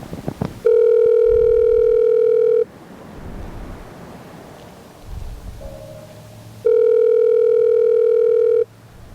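Telephone call ringing through on the line: two long, steady electronic ringback tones, each lasting about two seconds, separated by a quiet pause with faint line hiss and no talking.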